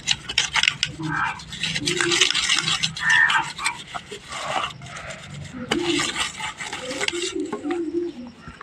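Brass vessel scrubbed clean with soap, heard as close, repeated rasping scrub strokes in an uneven rhythm with brief pauses between passes.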